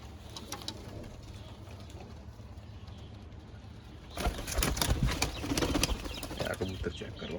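Pigeons at a crowded bird market coo and shuffle, with a steady low bustle that swells into louder flapping and cooing toward the end.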